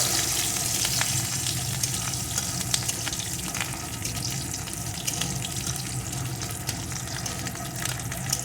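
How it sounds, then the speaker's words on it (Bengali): Garlic cloves fry steadily in hot oil with tempering spices for a garlic pumpkin dish, giving a constant close sizzle and crackle with occasional scrapes and clinks throughout. "রসুনের কোয়াগুলোকেও আমি একটু ভেজে নেব"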